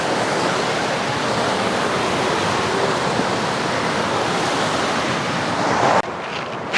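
Kedung Kayang waterfall at the foot of Merapi: a loud, steady broadband roar of falling water, close and unbroken, with a short drop in level near the end.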